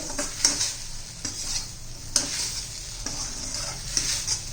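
A spoon stirs okra coated in gram flour as it fries in a pan, giving soft repeated scraping strokes over a steady low sizzle, close and moderately quiet.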